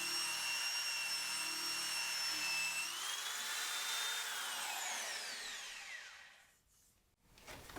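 Bosch drum sander grinding across aluminium, a loud steady high-pitched whirring abrasion with shifting tones that winds down and fades out near the end.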